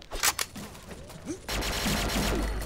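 Gunfire and rockets being shot in the Xshot online shooter game: sharp bursts and a few launches in the first half, giving way to a dense, continuous rattle of fire over the final second or so.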